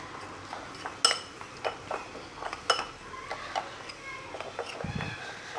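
A spoon stirs spices such as caraway into a Tlemcen-style soup mixture in a pot, giving light scattered clinks and scrapes of metal on cookware, fairly quiet and close, with soft background noise.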